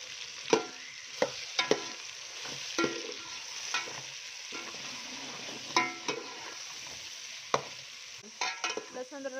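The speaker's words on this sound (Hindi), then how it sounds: "अब हम इसमें ऐड कर रहे हैं लहसुन अदरक का पेस्ट।" Garlic ginger paste fries in a pan for a masala karahi, a steady soft sizzle broken by sharp scraping clinks of a spoon stirring against the pan, close and alone.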